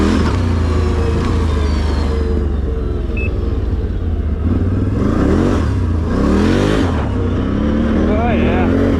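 A Can-Am Renegade 1000 ATV runs in four-wheel drive, its engine rumbling loud and close with repeated revving surges and clattering from the machine, while a voice talks over it.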